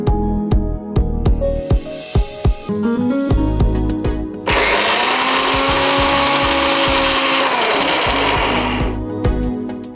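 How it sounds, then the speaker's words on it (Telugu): A kitchen mixer grinder blends bananas into a paste, giving a loud, steady whirring roar that runs for several seconds and then cuts off. "ముందుగా అరటిపండ్లను మిక్సీకి పట్టేసేయాలి"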